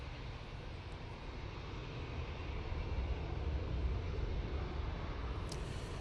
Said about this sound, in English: this is VS128 coming in from New York JFK. Using A350-1000